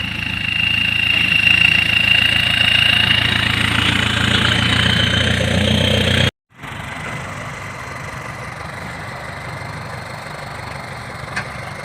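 A heavy truck engine idles steadily while sugarcane is loaded for hauling to a sugar mill, a loud continuous mid-pitched rumble that cuts out briefly, then resumes slightly rougher.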